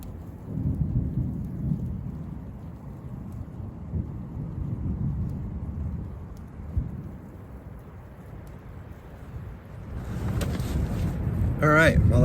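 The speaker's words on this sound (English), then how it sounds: "while I wait for the storm to roll in" A thunderstorm rolls in over a bushcraft camp with a raised bed in a national forest: low rumbling thunder swells and fades under steady wind and rain, with a person talking near the end.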